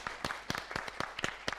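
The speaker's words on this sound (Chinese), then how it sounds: "掌声鼓励。" A studio audience at a televised cooking contest claps in scattered, uneven bursts, fairly faint and sparse rather than a full roar.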